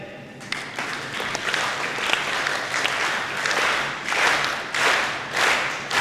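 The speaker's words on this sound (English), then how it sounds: "Clap in unison? Try it again." An audience claps together at a business talk on technology and customer experience, a dense, steady wash of hands that swells in rhythmic pulses toward the end, close and loud, with no voice over it.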